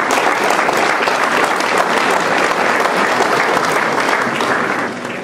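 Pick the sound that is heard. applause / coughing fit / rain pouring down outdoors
applause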